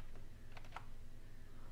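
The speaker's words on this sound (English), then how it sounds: "you need to press Ctrl Alt Delete together from your keyboard first." A computer keyboard pressed for Ctrl Alt Delete gives a few quick, faint key clicks in a short burst over a low background hum.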